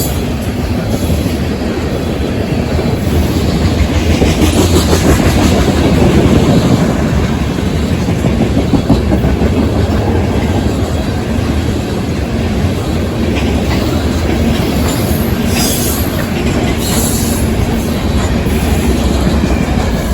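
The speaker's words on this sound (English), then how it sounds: "its identity was revealed to be another southbound ethanol train, specifically B831, on an as-needed run off of the CPKC Railroad" A southbound CPKC ethanol freight train rolls past close by, a loud, steady rumble of tank cars with rhythmic clickety-clack of wheels over rail joints and faint squeals, continuous for the whole stretch with no voices.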